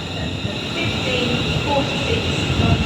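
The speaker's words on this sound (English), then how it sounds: "Off goes the late 1527 London North Western Railway service to London Euston." A London Northwestern Railway passenger service pulls out of Rugby station bound for London Euston, giving a steady, fairly close rumble and rolling rail noise throughout with a faint high whine over it.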